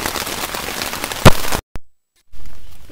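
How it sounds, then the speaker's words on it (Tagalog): Heavy rain pours and patters loudly at a campsite, then cuts out abruptly into near silence before a softer rain wash returns. "sobrang lakas talaga ng ulan talaga"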